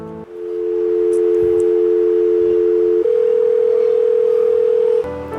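A steady electronic ringing tone plays for a video call. It holds one pitch for a few seconds, shifts to a higher continuous tone, then changes again near the end, loud and close with no talk.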